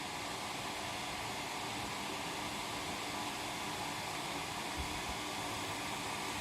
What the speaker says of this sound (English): Just taking a long time to boil this kettle.